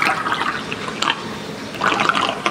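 Water drains from a swimming pool after brushing, a steady hissing, gurgling rush with a few louder splashy swells, heard up close and with no one speaking.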